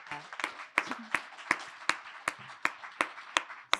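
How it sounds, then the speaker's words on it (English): Scattered clapping from a small summit audience, a sparse run of distinct, roughly evenly spaced claps with a faint murmur of voices beneath. "another round of applause for the Partnerships for Central America"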